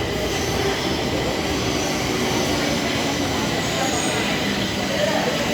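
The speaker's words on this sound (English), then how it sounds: "This is my metro, the train for today." A Stockholm metro train arriving at a station, heard as a loud, continuous rumbling roar of wheels and motors close by, with a faint squeal rising near the end.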